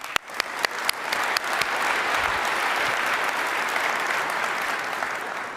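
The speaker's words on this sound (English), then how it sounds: "let's give another hand of applause to all the industry leaders" A keynote audience at a business summit breaks into applause. A few loud separate claps come first, then the clapping swells into sustained, dense applause that continues strongly to the end.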